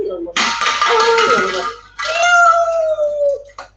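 Two drawn-out, wavering meows in a kindergarten classroom, loud and close, with a short pause between them and a brief chirp at the end.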